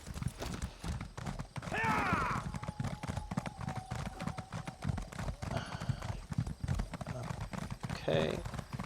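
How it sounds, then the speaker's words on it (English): Horse hooves clip-clop steadily in the video game Elder Scrolls Online, a continuous rhythmic trot with a couple of whinnies over it and a voice talking throughout. "Let's get back on the horse."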